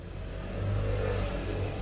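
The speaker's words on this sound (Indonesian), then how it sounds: "Ini kalau kita gas, bunyinya enak sekali, berat suaranya dan tidak cempreng gitu." A Toyota Camry 2.4 V engine with a custom modified exhaust revs with a deep, heavy rumble, swelling louder midway and holding steady, with no voices.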